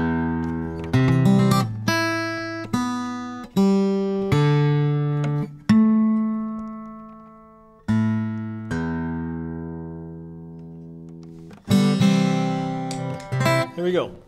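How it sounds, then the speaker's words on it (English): An acoustic guitar being tuned: single plucked notes and strums ring out and decay one after another, with pauses between, close and clear. "Let me get in tune here first,"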